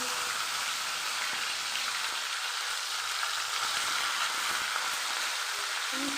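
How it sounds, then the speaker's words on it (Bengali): Hilsa fish heads fry in hot oil, giving a steady, quiet, even hiss of sizzling throughout with no pauses. "তেলটা গরম হয়ে গেছে তো চলো মাছ ভাজিটা বসিয়ে দিই"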